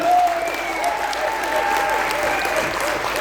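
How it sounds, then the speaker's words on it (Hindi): A meeting audience in Delhi applauds during a company speech, a short, even burst of crowd clapping with faint voices beneath it. "अरे ताली हो रहा है सर"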